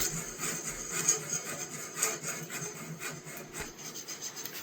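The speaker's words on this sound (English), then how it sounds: "I'm using a round file here. You need to go slow because if you have too heavy a file, it'll chip." A round file rasps against an Opinel knife in slow, close strokes, giving a steady scratchy grinding with gentle rhythmic surges.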